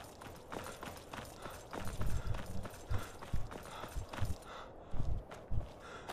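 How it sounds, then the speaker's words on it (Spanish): Horse hooves clip-clop in a video game, a run of distinct rhythmic hoofbeats growing louder and close by, standing alone without talk. "Y caballos aquí."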